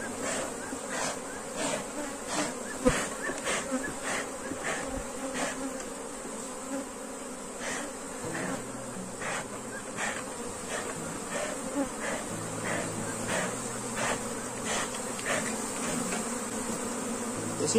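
A freshly captured honeybee swarm gives a steady, close, droning buzz, with individual bees zipping past now and then over the continuous hum, and no voices.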